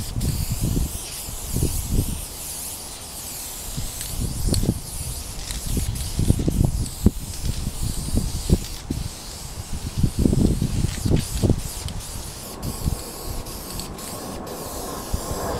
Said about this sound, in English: we'll get the third coat of primer on there